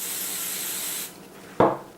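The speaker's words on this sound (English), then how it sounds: "I'm just going to quickly spray it." Hair spray hisses from a can onto a freshly made braid in one steady close burst of about a second, followed by a short rubbing scrape.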